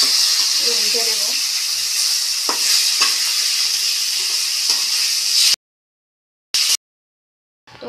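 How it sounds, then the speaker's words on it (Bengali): Fish frying in hot oil in a pan as part of a Bengali home lunch, a steady loud sizzle with a few scrapes and clinks of turning, then cut off into near silence with a brief burst near the end. "আর এদিকে আমার হচ্ছে মাছ ভাজা।"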